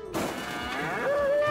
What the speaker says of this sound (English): You got a cow for meat!